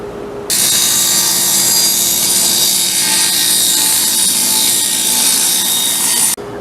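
A power saw cuts a bevel into 3.5-inch wood stock for a shop stool, making a loud, steady, high buzzing rasp that lasts about six seconds close up before stopping abruptly.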